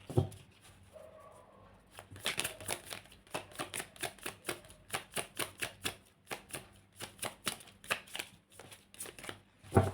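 A tarot deck shuffled by hand, a close, rhythmic series of soft card slaps and riffles, steady and even, starting after a brief quiet opening with no speech.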